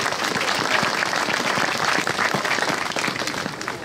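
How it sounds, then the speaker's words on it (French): An audience at a Saint Vincent wine festival in Chablis country applauds continuously, a dense, close burst of many hands clapping with no pause. "On peut l'applaudir."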